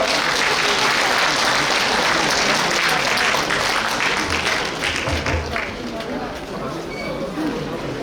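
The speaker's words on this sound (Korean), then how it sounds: "다시 한번 김민원님과 이소민님께 큰 박수 부탁드리겠습니다." Sustained, loud applause from a large audience for performers at a packed book concert, a dense continuous wash of clapping that eases slightly toward the end.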